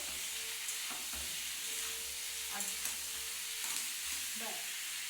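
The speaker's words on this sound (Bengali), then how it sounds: "সয়াবিনটা একটু ভাজার জন্য একটু টাইম দিতে হবে" Continuous hissing sizzle of soybean chunks browning in hot mustard oil, with occasional stirring scrapes and light utensil knocks nearby.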